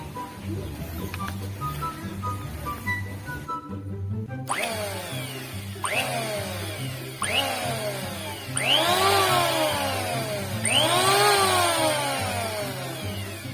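A Maktec MT-191 electric planer runs close by without wood, its steady motor whine swelling in four repeated surges that rise and fall.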